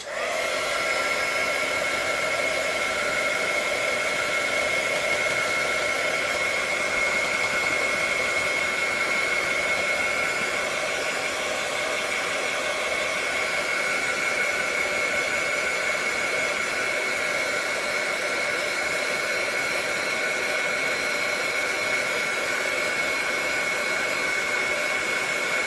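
A hair dryer blows steadily and loudly throughout, drying wet paint on a painted piece, with a constant whirring hum and no talk.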